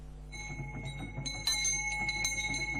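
A bell rings repeatedly at the National Museum in Douala, Cameroon, announcing the arrival of Douala chiefs, with clear metallic tones over a steady low hum and background murmur, struck several times in an irregular rhythm.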